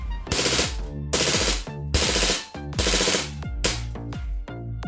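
An Umarex KWA MP7 gas blowback airsoft gun firing, loud sharp bursts of rapid mechanical shots with clacking bolt action, several strings close to the microphone with brief pauses between them.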